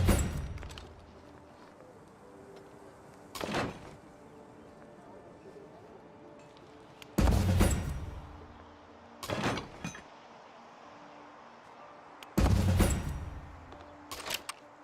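Field cannons fire in Civilization 7, a few heavy booming shots spaced several seconds apart, each a loud broadband blast with a short decay over a quiet game background.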